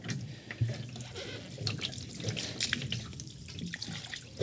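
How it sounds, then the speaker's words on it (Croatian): Ordinary water poured into the coolant of a BMW that has boiled over, inside a garage: a steady, close splashing trickle of liquid runs throughout, with no talking. "I polit ćemo s običnom vodom,"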